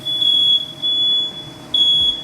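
A shrill smoke alarm, set off by kitchen cooking, sounds in long piercing beeps, three of them with short gaps between, loud and close.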